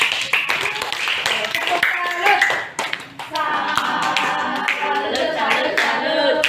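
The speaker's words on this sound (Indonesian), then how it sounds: "Kita berikan tepuk tangan untuk kelompok poster." Schoolchildren applaud the poster group in a classroom, a dense, lively patter of clapping hands with children's voices mixed in throughout.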